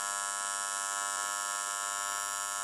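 A TIG welding arc on aluminum with AC frequency set to 90, a steady harmonic buzz with a strong even hum, loud and unbroken for the whole stretch with no talking.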